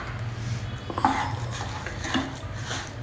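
Jaggery powder is stirred into milk in a pot, with a spoon knocking and scraping against the metal in a few uneven, close clinks over a low simmering background and no speech.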